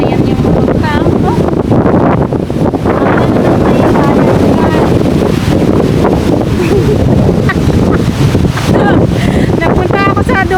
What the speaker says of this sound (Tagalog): Oh my god, ang lakas ng hangin guys.